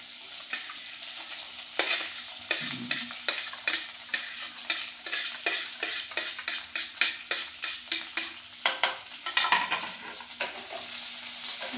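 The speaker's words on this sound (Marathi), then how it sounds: "आता याला चांगलं परतून घ्यायचं" Onion, peanuts, green chillies, curry leaves, cumin and mustard seeds fry in a pan with a steady sizzle, while a spoon scrapes and stirs in quick repeated strokes close by; no one speaks.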